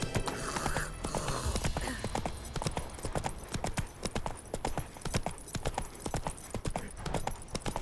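A horse trots along in The Witcher 3, with steady, rapid hoof clip-clops that sound fairly close, a brief muffled voice at the start, and game ambience underneath.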